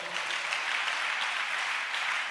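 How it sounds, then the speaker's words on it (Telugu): A congregation applauds during a Telugu Christian sermon, a steady dense wash of many hands clapping at once, sustained and fairly loud throughout, with no clear voices over it. "కొట్టు చప్పట్లో."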